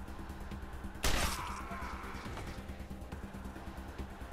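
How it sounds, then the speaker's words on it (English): A single sharp, loud blast from an M1 assault rifle in Wasteland 2 cracks out over a busy game backdrop, then trails off into a short ringing decay, alone with no talking. "let's get you to attack him then. With your assault rifle,"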